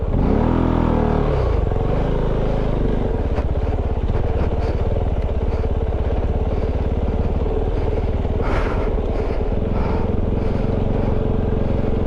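A Kove 450 Rally motorcycle rumbles loud and close while riding a rough jeep trail, its engine droning continuously with clattering over the terrain.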